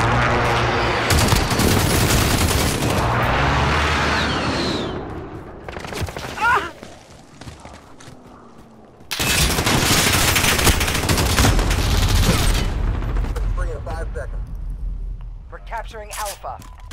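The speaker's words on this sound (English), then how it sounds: "friendly precision airstrike inbound" Airstrike explosions and heavy gunfire in Call of Duty Modern Warfare, with loud dense bursts in two main waves. A lull falls between them, and a voice speaks over the battle.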